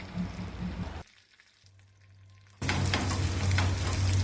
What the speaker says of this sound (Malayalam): ഒരു പാൻ ചൂടാക്കി 1 ടേബിൾ സ്പൂൺ എണ്ണ ഒഴിച്ച് 1/2 ടീസ്പൂൺ കടുകും 1/4 ടീസ്പൂൺ ഉഴുന്നുപരിപ്പും കുറച്ച് കറിവേപ്പിലയും 1-2 വറ്റൽമുളകും ചേർത്ത് കടുക് താളിക്കാം.